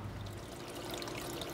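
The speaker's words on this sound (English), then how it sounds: "I've got the cherub water fountain," Water trickling and splashing steadily from a garden cherub fountain, a continuous close, soft pouring sound with no voices.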